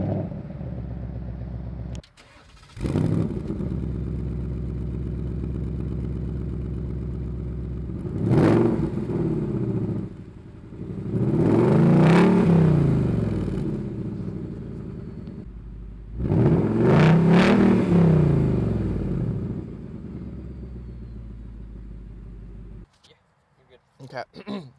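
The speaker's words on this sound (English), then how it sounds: "this wouldn't be a Mustang video if I didn't give you guys an exhaust clip" Ford Mustang GT Premium exhaust, heard after a remote start, settles into a steady rumbling idle with two loud revs swelling over it before cutting off near the end.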